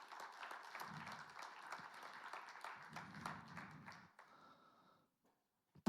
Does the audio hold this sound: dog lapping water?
no